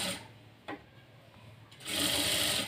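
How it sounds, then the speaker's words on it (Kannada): A sewing machine stitching a cut blouse piece, quiet at first with a faint tick, then a steady loud run of needle strokes over the last second, no talk. "ಕಾಲು ಇಂಚ್ ಗ್ಯಾಪಲ್ಲಿ ನೀವು ಹೊಲಿಗೆ ಹಾಕ್ಕೊಳ್ತಾ ಬನ್ನಿ"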